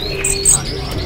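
An orange-headed thrush at a bird market gives a short, bright call of a couple of high chirps, close and clear over a faint murmur of background noise.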